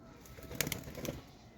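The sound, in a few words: Shirazi pigeons cooing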